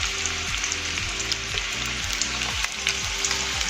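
Onions frying in oil for a Pahadi dal make a steady, close sizzle that crackles and spits continuously, with no voices.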